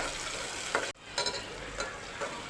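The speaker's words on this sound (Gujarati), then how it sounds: "તો ડુંગળી સતળાઈ ગઈ છે, હવે આપણે તેમાં ટામેટું એડ કરી દઈએ।" Chopped tomato goes into a pan of sautéed onion on medium heat, giving a soft, steady sizzle broken by a few scraping stirs and one brief sharp clack partway through.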